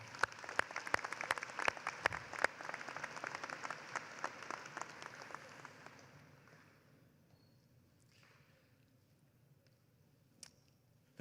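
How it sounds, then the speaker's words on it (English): Applause from a graduation ceremony audience at a high school commencement, dense clapping for about six seconds that thins into scattered claps and fades, with one late clap near the end. "How about one more round of applause for them?"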